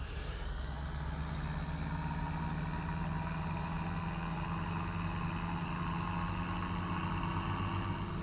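Tractor engine running in Farming Simulator 17, a steady mid-loud idle drone with an even, unchanging hum, continuous throughout with no talk.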